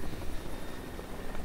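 Helicopter in the video game Resident Evil 5, a steady dense rotor and engine roar filling the whole moment, loud and continuous with no talk over it.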